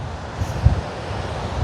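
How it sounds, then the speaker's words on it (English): Steady coastal wind buffets the microphone outdoors in the evening, a continuous low rumbling roar with a few stronger gusts. "the wind is picking up"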